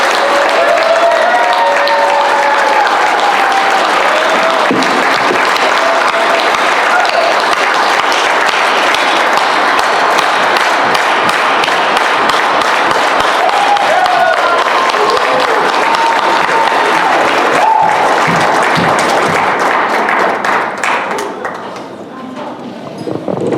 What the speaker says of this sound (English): So let's give a long and loud applause for Adriana Melgoza, Claudia Melendez, and M